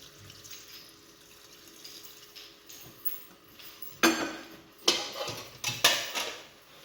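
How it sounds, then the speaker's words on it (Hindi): Water from a jug poured into a pot of beef karahi with spices, a couple of splashing gushes close by after quieter kitchen handling noises. "1 जग पानी का डाल के।"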